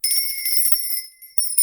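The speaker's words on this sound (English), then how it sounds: "I'm going to be ringing this lovely lady bell" A small hand bell rings with a bright, sustained metallic shimmer that lingers and decays, then is struck again near the end; close and alone with no talking.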